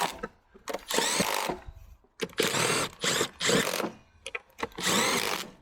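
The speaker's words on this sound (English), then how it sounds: "So we'll just torque these to 7 Newton meters." Tools working on bolts of a DAF MX-13 truck engine top end, tightening them to 7 Newton meters. Several bursts of mechanical whirring come in separate rhythmic runs with short pauses between them, close and fairly loud.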